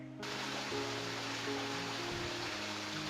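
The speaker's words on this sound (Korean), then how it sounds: "오늘 수성동의 물소리 잠깐 듣고 가시죠" Stream water rushing steadily through Suseongdong valley after heavy rain, a dense, continuous broadband flow with low tonal hum beneath, close and constant throughout.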